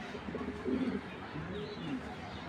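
A pair of tiger grizzle pigeons coo softly in a few low, rolling bursts, with a louder coo near the middle and another toward the end, heard up close against a faint steady background.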